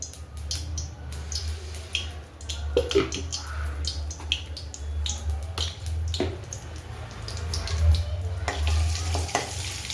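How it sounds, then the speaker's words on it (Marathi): Turmeric dropped into hot oil for a phodni tempering for a moong dal dish, giving a steady close sizzle and frying crackle with scraping stir strokes throughout, and no talking. "आता आपण फोडणी देणार आहे तर सर्वात पहिले आपण याच्यामध्ये थोडीशी हळद घालायची"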